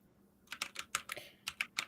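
Computer keyboard typing in a quiet room: a short run of about a dozen distinct, fairly soft key clicks with uneven rhythm and no voices.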